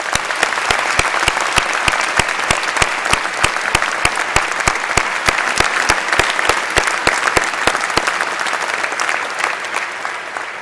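A large audience at a Department of Justice awards ceremony, held by the Attorney General, thanks the honor guard and performers with loud, sustained applause. Sharp individual claps stand out clearly throughout more than ten seconds.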